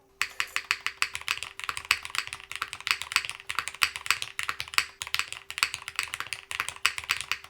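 Rapid typing on a Cinque 55 mechanical keyboard fitted with bottom foam, a steady stream of crisp close clacks with deeper spacebar thumps mixed in, no voices.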